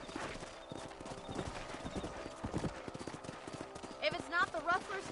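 Horse hooves clip-clop in a steady gallop rhythm in the Red Dead Redemption video game, with a couple of whinnies near the end over the game's background sound.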